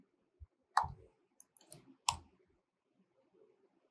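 Sparse computer mouse clicks while editing text in Premiere Pro, a few sharp close taps spread irregularly across quiet moments with no talking.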